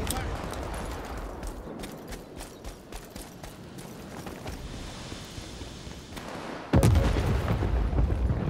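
Friendly airstrike in the video game World War 3 on the Warsaw map: a sudden, loud, low blast late in the clip after steady rumbling battle noise and scattered gunfire.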